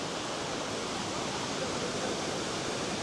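A waterfall in Morocco's Atlas Mountains gives a steady, broadband roar of rushing water, close and constant throughout, with no voices.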